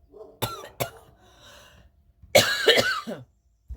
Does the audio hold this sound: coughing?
yes